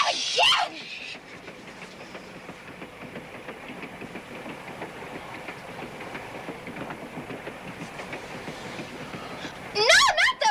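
A train runs along rails with a steady rumbling, clattering drone throughout, broken by brief sharp, high-pitched bursts at the very start and end.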